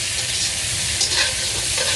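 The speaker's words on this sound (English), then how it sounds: "Just in a cast iron pan, just keep tossing it." Potatoes sizzle steadily in a hot cast iron pan as they are stirred and tossed, crackling with constant frying noise.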